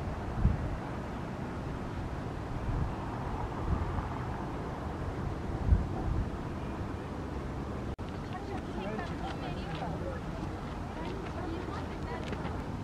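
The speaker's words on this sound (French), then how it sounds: "Le coin où je suis, c'est vraiment beaucoup de vent." Strong wind buffets the microphone with a constant low rumble and gusting roar in Göreme, and a voice speaks faintly underneath.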